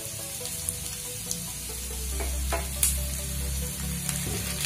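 Tomatoes frying with cashews and onions in a pan, a constant close sizzle with a low rumble underneath and occasional soft stirring clicks, no speech.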